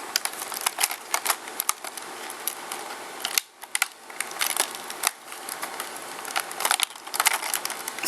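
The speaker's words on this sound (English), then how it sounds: "As far as getting it out of the packaging." An Eaglemoss Star Trek Official Starships Collection Bird of Prey model, issue 3, is worked out of its plastic and cardboard packaging, with close crinkling, scraping and rapid clicking rustles that pause briefly and resume.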